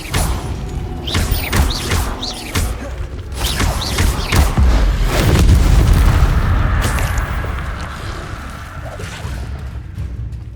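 In Hogwarts Legacy, a Confringo spell goes off amid game combat: sharp whooshing casts and thuds build to a heavy rolling boom, followed by mechanical rumble and fading debris, loud and layered.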